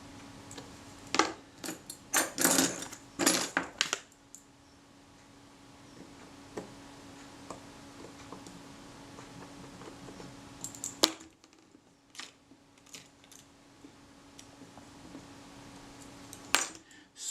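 A small screwdriver drives tiny screws into the top cover of a Kodak Retina IIIc camera, producing faint, close metallic clicks and scrapes in scattered bursts, with a brief cluster of louder taps near the start.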